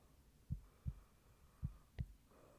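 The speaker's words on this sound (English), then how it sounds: "The judder of his heartbeat swelling inside." Heartbeat thumping in quiet, four soft low thuds in an uneven rhythm against a faint hum, with no voices.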